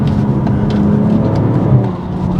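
A tuned 450 bhp BMW M240i xDrive with a B58 engine drones steadily under load from inside the cabin, a low continuous hum with a faint whir of turbo boost over it.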